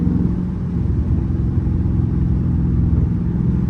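A Dodge Charger Scat Pack's engine rumbles loud and close from inside the car while driving, a deep steady drone with a slight shift in pitch as it downshifts.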